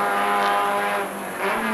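Touring production race cars above 200 horsepower on a Spanish championship circuit in 1988, engines screaming in a loud, sustained high-revving howl that dips briefly before surging again as cars pass nearby.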